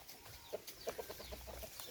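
Rooster and chickens in a backyard cluck faintly in short, scattered calls over quiet outdoor ambience, a few soft notes close together.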